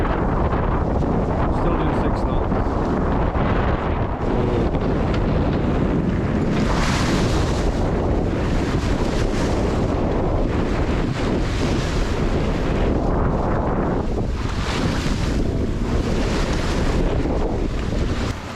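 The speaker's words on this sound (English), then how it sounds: "Phenomenal standing waves, like 3 meters" Big standing waves in a Channel Isle tidal race, roughly three meters high, crash and churn around a small boat, with steady, loud wind buffeting the microphone and surges of surf rising and falling throughout.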